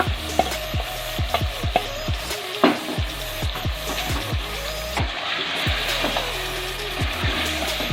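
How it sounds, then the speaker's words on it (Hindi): Boiled, ground spinach goes into meat curry frying in a pot, with a busy crackling sizzle and repeated scraping stirs at an even, moderate loudness. "अब हम इसमें पालक ऐड करेंगे।"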